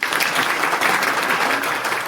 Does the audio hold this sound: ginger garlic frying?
no